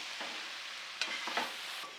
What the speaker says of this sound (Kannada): ತುಪ್ಪ, ಕಾಳುಮೆಣಸು ಪೌಡ್ರು, ಜೀರಿಗೆ ಪೌಡ್ರೆಲ್ಲ ಚೆನ್ನಾಗಿ ಹೊಂದ್ಕೊಳ್ಳೋವರೆಗೂ ತಿರುಗಿಸ್ಕೊಳ್ಳಿ